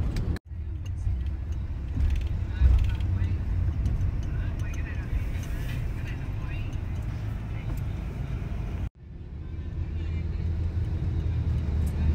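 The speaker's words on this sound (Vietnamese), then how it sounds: "Ở Thái cũng kẹt xe dữ lắm các bạn" Steady roar of road traffic in a Bangkok traffic jam, cars, buses and motorbikes idling and creeping, a dense continuous rumble close by with a brief break in the middle, and a voice heard faintly over it.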